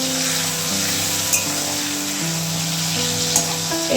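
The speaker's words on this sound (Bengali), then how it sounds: "এখন তেল দিয়েছে শুকনো লঙ্কা দিয়েছে তেজপাতা" Dried red chillies and bay leaves sizzle in hot oil for aloo dum in a home kitchen. The frying hiss is steady and close throughout, with a couple of brief clinks and a faint background tone beneath.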